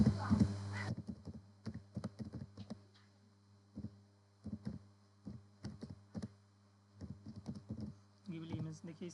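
Prompt typed on a computer keyboard, a run of close, crisp key taps in uneven bursts with short pauses, ending in a quicker flurry of keystrokes.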